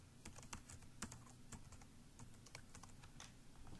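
Rapid, uneven keystrokes on a computer keyboard as a password is entered, sharp clicks scattered steadily across a few seconds, fairly close and fairly quiet against a faint room hum, with no talking.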